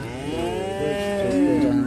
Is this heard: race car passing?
no